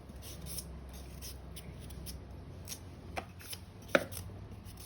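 A knife peels and cuts cauliflower stems, producing soft scraping strokes close by with a couple of sharper cutting snaps near the end, fairly quiet overall.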